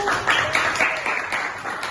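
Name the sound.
applause for the winning group in a classroom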